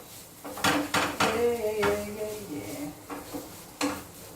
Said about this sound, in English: Cooking my veggies so nicely.